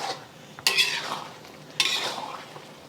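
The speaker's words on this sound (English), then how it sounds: "And give it a stir" A spoon stirs ground beef sauce thickened with cornstarch slurry in a pan, giving two scraping, clattering strokes over a faint sizzle.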